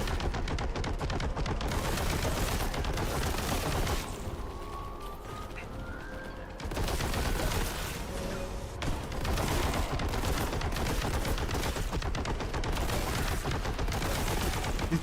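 Plasma gunner enemies in the shooter game Boltgun fire rapid bursts, dense continuous weapon fire with a brief lull midway.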